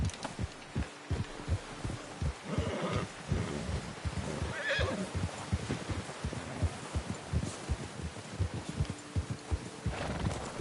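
In Red Dead Redemption 2, a horse whinnies while its hooves clip-clop steadily and rhythmically under a dense, continuous layer of game sound.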